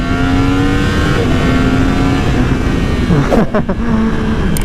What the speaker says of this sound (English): It just lets that engine purr.